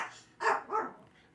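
A dog lets out two quick barks at moderate distance indoors, the first sharper and louder, followed by quiet room tone.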